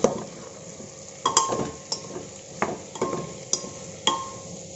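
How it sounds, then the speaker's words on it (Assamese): A utensil stirs pork with bamboo shoot in a pan, giving repeated scraping strokes and metallic clinks over a faint sizzle, close up, steady and unhurried, with no voices. "আকৌ এইখিনি লৰাই ল'ম"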